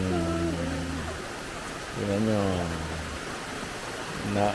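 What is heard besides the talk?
rain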